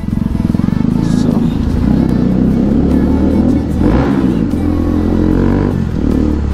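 A motorcycle exhaust rumbles and revs loudly and steadily while riding at night through heavy traffic, with crowd babble and people talking around it.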